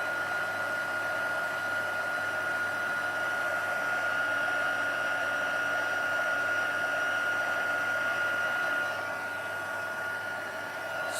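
A heat embossing tool blowing over cardstock gives a steady, loud, close whirring hiss that runs without a break for about eleven seconds, with no talk.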